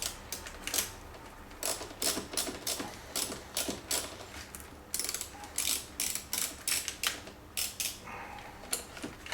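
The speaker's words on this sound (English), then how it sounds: "All right, so I'm removing those 3 screws." Three screws on a Corvette blower motor module are backed out with a ratcheting tool, giving a long run of rapid, close, evenly spaced ratchet clicks in short bursts, with no talking.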